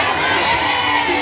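A festival crowd at the Jáltipan fair in Veracruz shouts back an answer together, a dense, loud wall of mixed voices and whoops filling the whole moment without a break.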